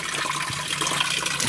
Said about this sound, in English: There's a little stream in here with some water. I'll take you in,